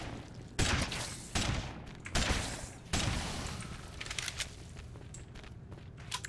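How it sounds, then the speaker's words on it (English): A heavy rifle fires in CryoFall: four loud, widely spaced shots, each with a sharp crack and a decaying boom, followed by quieter scattered thumps and clatter. "I will give it a go to the heavy rifle."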